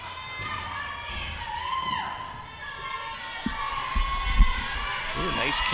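A sellout crowd at a girls gymnastics meet in the Jefferson Auditorium, a broad murmur of voices rising in cheers, with scattered thuds and shouts and a commentator talking over it.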